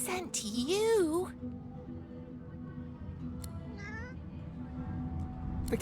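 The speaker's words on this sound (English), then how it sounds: "The cat begins to purr and rub itself on your ankles." A cat meows in the video game Divinity: Original Sin 2: one clear, rising and falling meow near the start and a fainter, shorter one later, over a low steady game ambience.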